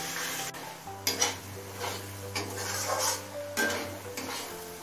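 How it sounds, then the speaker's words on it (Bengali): Cashew nuts sautéing with spice masala in a pan give a soft sizzle, while a spoon scrapes and clinks against the metal in several bursts, fairly quiet and close. "এবার এই কাজু বাদামটাও মশলার সাথে ভালো করে কষিয়ে নেব।"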